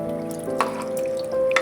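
Water is poured into a pot of nihari curry thickened with flour, a soft trickling and dripping splash over a steady background hum, brief and close.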